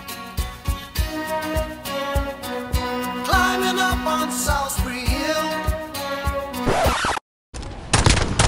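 Gunfire from the Call of Duty video game, a dense run of rapid repeated shots with booming impacts over a steady musical bed, loud and close, cutting out briefly near the end.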